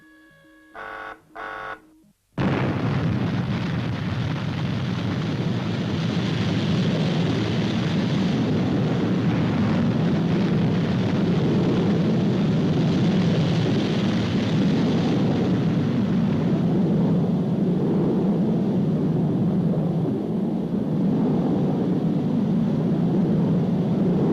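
A Fireball XL5 spacecraft rocket launch: after a few short bursts at the start, a loud, steady roaring rumble sets in and holds without a break to the end, with no voices over it.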